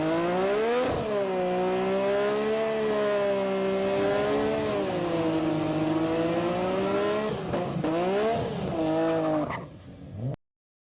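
A Nissan Skyline GT-R R34 drag car, a street-spec Phoenix Power build, accelerates hard through the gears with a loud, close engine roar that pauses at each shift and then cuts off abruptly at the end.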